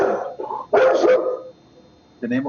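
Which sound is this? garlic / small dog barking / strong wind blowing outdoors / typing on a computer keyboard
small dog barking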